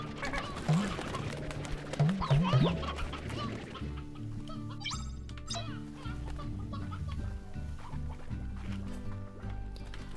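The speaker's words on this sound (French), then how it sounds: "Il y a les petits poulets par terre." Chickens cluck in the video game Slime Rancher. Repeated short clucks and squawks sound over looping background music, fairly close and steady throughout.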